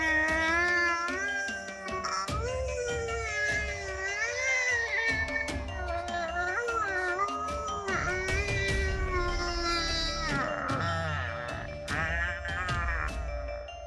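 A cat wails and yowls at night outside a half-open window, a long run of loud, wavering, drawn-out cries that rise and fall almost without pause, close and alone.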